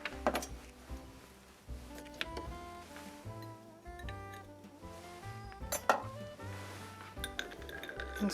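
A spoon stirs ground cinnamon and cream into a drink, clinking against a glass in light, irregular taps, close and fairly soft, with faint music in the background.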